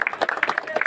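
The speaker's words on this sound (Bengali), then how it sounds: "যোগ্য একবার হাততালি সবাই।" An audience claps at an outdoor statue unveiling, giving a brief, dense patter of close hand claps that lasts under a second.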